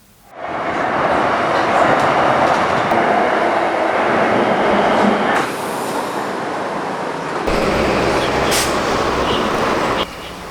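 A Shanghai Metro Line 9 train runs with a loud, continuous roar and rumble from start to finish, its tone shifting partway through as wheel and track noise change.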